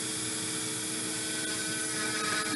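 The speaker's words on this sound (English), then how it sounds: "Now I'm going to once again drill this in a completely unsafe manner." A power drill bores into cork during a beading craft project, giving a steady high-pitched whine that holds continuously at moderate volume with no talking over it.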